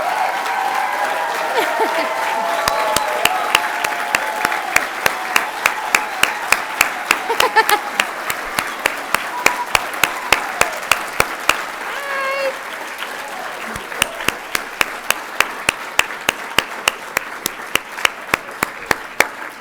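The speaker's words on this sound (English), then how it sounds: "we'd like to give everybody a big round of applause for your successes in this past year" Audience applause at a service excellence awards ceremony in Virginia, a steady wash of many hands clapping that fills the room, with a few louder individual claps standing out as it carries on.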